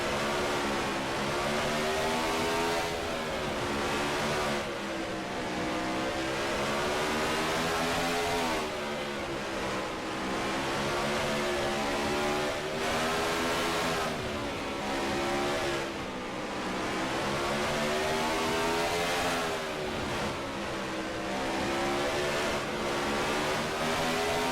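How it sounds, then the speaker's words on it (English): Onboard a next-gen Mazda stock car lapping the Slinger short track, the engine revs up and eases off again and again in a loud, rhythmic cycle of rising whines. "You want to hear what the next-gen car sounds like making its way around a short track like Slinger?"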